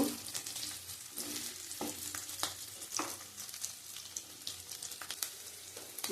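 Potatoes fry in a pan for Bengali aloo dum, a soft, fairly faint sizzle with irregular stirring clicks and scrapes throughout, no talking.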